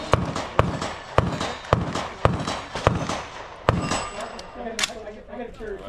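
Rapid gunshots at a multigun shooting match, a string of sharp, evenly paced cracks about half a second apart with metallic ringing from steel targets, followed by quieter handling sounds and brief voices.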